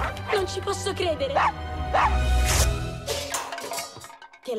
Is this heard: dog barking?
yes